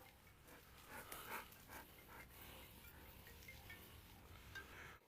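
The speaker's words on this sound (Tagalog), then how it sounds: "Sa totoo lang, aso talaga to, mga kaibigan." A dog pants quickly and steadily, close by, with faint rustling and movement around it and no talking.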